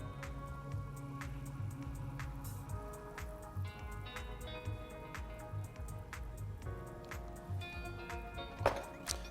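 Eggs poaching in simmering water in a pan, giving a steady soft bubbling with scattered drip-like pops and plops, fairly quiet and close, with no talking.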